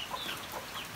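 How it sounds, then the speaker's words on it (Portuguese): Mother hen with six chicks on a rainy porch, clucking softly in a few short bursts, close and fairly quiet. "São 6 pintinhos, pessoal, dessa galinha."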